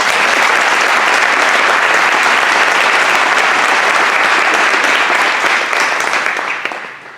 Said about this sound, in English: We'd like to give all of them a huge thank you and round of applause.